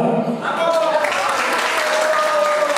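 Wedding guests clap for Jacek at a reception, a burst of broad applause filling the room while a voice speaks over it.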